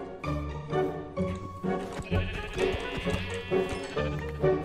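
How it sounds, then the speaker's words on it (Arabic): Sheep in the video game Minecraft bleat a few times in wavering calls over game sounds and footsteps, with no clear talking. "نايس، لقيت زوز خرفان."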